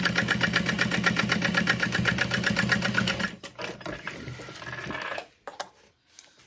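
A sewing machine top-stitches through the exterior fabric and lining of a sling bag, running loud and steady at close range for about three seconds, then slowing with intermittent whirring and clicks before stopping.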